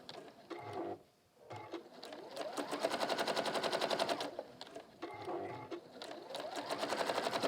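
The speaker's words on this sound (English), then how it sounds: "I'm top stitching onto the brim, onto the middle hat side." A sewing machine top stitching through a hat brim onto the middle hat side, running in rapid mechanical bursts with short pauses between runs, close and clear with no talk.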